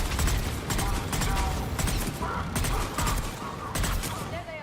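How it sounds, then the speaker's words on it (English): Close-range gunshots in the video game Mass Effect 3 fire in a steady rhythm of sharp reports over a constant busy game background, moderately loud throughout. "I know those were some close range shots"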